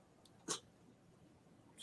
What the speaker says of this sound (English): my little cat that sneezed